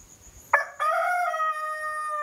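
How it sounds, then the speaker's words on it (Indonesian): A rooster crows once, close by: a single long, loud call that follows a brief sharp knock and holds steady for over a second before trailing off. "Sampai ayam pun berkokok."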